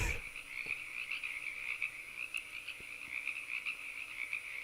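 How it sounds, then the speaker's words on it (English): Repeated frog croaks in a space-themed video game demo, a steady rasping chorus running continuously and fairly loud against a faint ambient backdrop, with no talking. "that's a really annoying frog"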